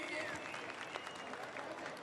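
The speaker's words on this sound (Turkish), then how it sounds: "Çok güçlü bir alkışla uğurluyoruz şimdi." An audience applauds at an outdoor event to send off a performing group, the clapping faint and distant as a steady wash under an announcer's voice.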